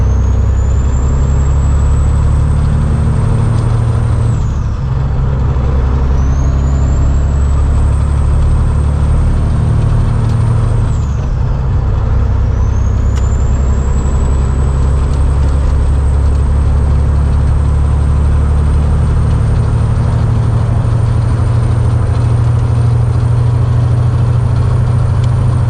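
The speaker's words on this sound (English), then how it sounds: "Get ourselves up to highway speed. See what this old girl can do." An old truck accelerates toward highway speed, its steady low engine drone and road rumble loud and close throughout, with rising whine sweeps marking two gear changes before settling into a constant cruise.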